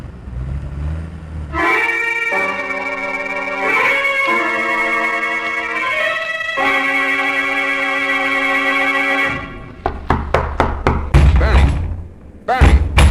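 Knocking on a casino door comes as a quick run of sharp, loud raps near the end, following a long stretch of voices and sustained tones.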